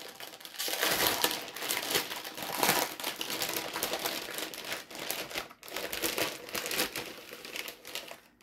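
Trading card booster packs are torn open by hand up close, a continuous run of crinkling and ripping foil wrappers with bursts of crackle throughout.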